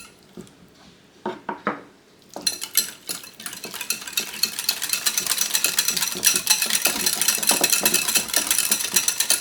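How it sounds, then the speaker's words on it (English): Ingredients with coconut milk are whisked together for a dip, a few slow scrapes at first, then rapid, continuous rhythmic clicking of the whisk against the bowl, close and fairly loud. "Just whisk really well."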